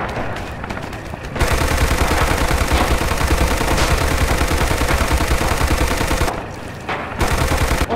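Sustained close machine-gun and rifle fire in the World War II shooter Rising Storm/Red Orchestra 2, dense rapid bursts rattling almost continuously, briefly thinning near the start and again toward the end.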